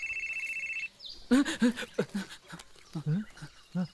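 A phone rings with a steady electronic trill for just under a second, then stops as several voices talk over each other.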